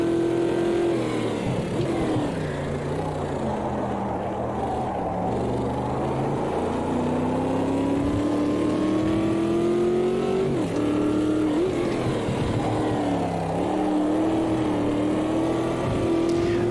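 Corvette race car engine in the Automobilista 2 racing game, droning steadily at high revs with pitch rising and falling through gear changes and corners, loud and continuous throughout.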